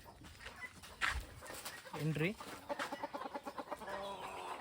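Country chickens in a farm shed give faint clucks and a short rising call, heard under someone speaking at low overall level.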